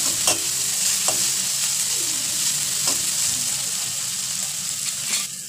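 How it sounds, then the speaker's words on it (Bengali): Chopped tomato stirred into browned onion frying in a pan, part of a Maggi noodles breakfast: a steady, close sizzle with a few scraping stirs and clicks of the utensil, and no talking. "এবার আমি দিয়ে দেবো কেটে রাখা টমেটো। টমেটোটা হালকা নাড়াচাড়া করে নেব।"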